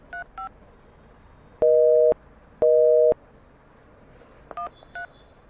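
A phone call to a number that is switched off or unreachable: quick keypad tones, then two long, steady, loud beeps, followed by more short dialing tones.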